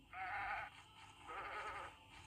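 Tree goats in the video game Ghost in the Mirror give two drawn-out, wavering bleats, close and clear, separated by a short pause.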